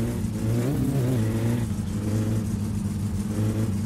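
A car engine in the driving game My Summer Car drones steadily and rises in pitch as an oncoming vehicle approaches head-on, a continuous mid-range hum with a brief revving swell.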